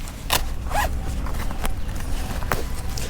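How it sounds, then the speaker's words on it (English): A YKK zipper on a Royal Enfield Nirvik touring jacket gives a few quick, close rasping pulls, with short separate zips and light handling noise between them. "this is a YKK zipper on this"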